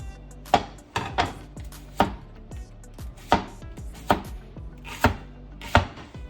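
A heavy knife chops a leek on a board in steady, evenly spaced strikes, about eight sharp, close thuds over several seconds with no talking.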